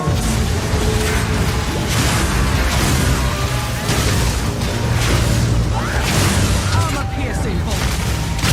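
Incendiary crossbow bolts fire in Path of Exile 2, a dense, steady barrage of booms and mechanical clatter filling the whole stretch at full loudness, with no pause between shots.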